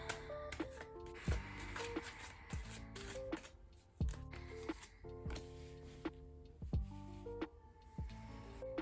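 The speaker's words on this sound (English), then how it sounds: "I'm just gonna keep shuffling." Repeated riffle-and-bridge shuffling of tarot cards, crisp and close, with rhythmic bursts every second or so over faint background music.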